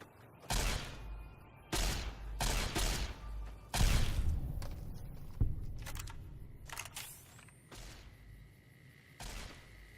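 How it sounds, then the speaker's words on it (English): Laser rifle shots fired at radscorpions in Fallout: New Vegas, a series of sharp, fairly loud zaps spaced irregularly, with impact and creature sounds between them. "We make use of a laser rifle we found a while back to help with the scorpions"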